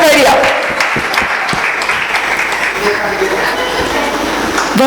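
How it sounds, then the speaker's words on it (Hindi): Audience clapping steadily at a Das Lakshan Parv religious gathering in Prashant Vihar, Delhi, loud and dense for the whole stretch with a few sharper claps standing out. "तालियां बजा दो जल्दी से समय जैन के लिए।"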